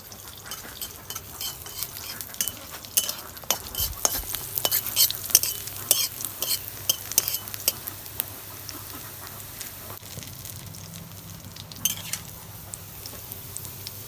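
Small river fish such as puti, tengra and chela sauté in a kadai with salt, turmeric, cumin, dried chili and green chili, sizzling steadily under frequent close scrapes and clinks of a stirring utensil, with no talk.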